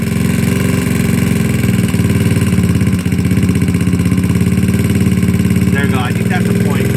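A GY6 scooter engine idles steadily up close while its carburetor idle mixture is tuned, giving a loud, even, pulsing putter with a brief dip partway through.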